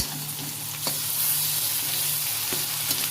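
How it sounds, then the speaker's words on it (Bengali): Boiled beet, carrot, potato and peas sizzling in a pan with browned onion for vegetable cutlets, a steady close frying hiss with occasional scraping stirs. "দেওয়ার পরে ভালো করে এটাকে নাড়তে হবে।"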